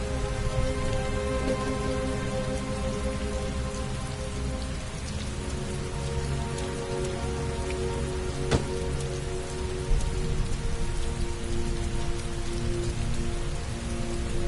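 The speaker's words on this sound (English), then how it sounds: "Heavy rain." Steady, heavy rainfall in the video game Heavy Rain pours down without a break, a dense continuous hiss with occasional droplet taps and no voices.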